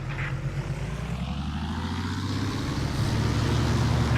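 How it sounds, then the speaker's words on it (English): A propeller plane engine in the War Thunder video game drones steadily and builds power, a continuous loud low hum that swells slightly toward the end with no other sounds. "Increase engine power to return to cruising speed."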